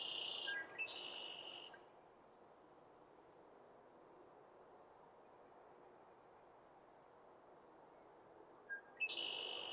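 A ruby-crowned kinglet calls in the open with high, thin trills, one burst at the start and another near the end, over a steady low hiss of background ambience.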